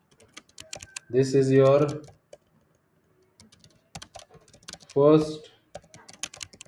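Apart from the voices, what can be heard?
typing on a computer keyboard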